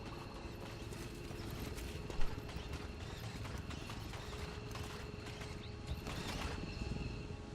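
Horse hooves clip-clop steadily in an XCOM 2 video game, a war horse's footfalls over a continuous game ambience with no talk.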